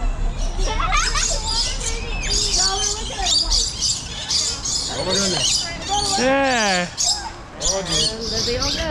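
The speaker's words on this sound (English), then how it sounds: "It's the attack of the birds." Birds at Busch Gardens squawking and chirping in a busy, overlapping chorus, with harsh squawks and rising tweets close by, while people talk intermittently over the noise.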